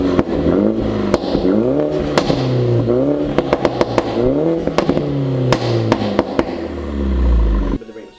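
A Mini JCW F56 with a Remus exhaust revving repeatedly, the engine note climbing and falling in throaty sweeps punctuated by sharp pops and crackles, heard as loud playback with a deep rumble at the end.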